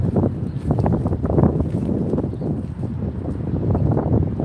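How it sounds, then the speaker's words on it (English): Strong outdoor wind buffets and roars across the microphone on a street in Kansas City, a steady low rumble that gusts and swells without pause. "Wind is picking up."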